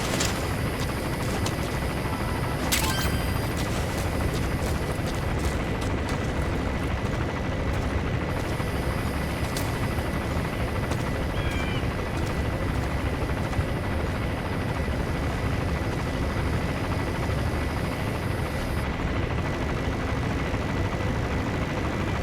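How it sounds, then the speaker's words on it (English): A helicopter in Metal Gear Solid V drones with a steady rotor and engine roar throughout, loud and unbroken, with a few brief sharp clicks and tones layered on top. "There's a chopper landing."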